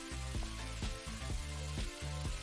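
Oil sizzling in a frying pan, a steady soft crackle and hiss that runs under rhythmic low clunks of cookware.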